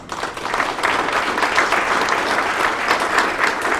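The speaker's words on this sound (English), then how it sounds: "Let's give him a round of applause." Audience at a county budget public hearing applauds the Kootenai County Clerk, a dense, steady round of clapping that fills the room throughout.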